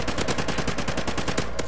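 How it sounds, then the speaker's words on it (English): Rapid automatic gunfire in the shooter video game Call of Duty: Ghosts, a loud burst of closely spaced shots with no pause, heard alone. "Oh, I picked him off with the last bullet in my clip."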